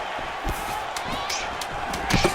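Punches land in EA Sports UFC 5 during a heavy exchange between Joshua Van and Brandon Royval, a run of sharp thudding impacts over a constant arena crowd roar, with a commentator talking.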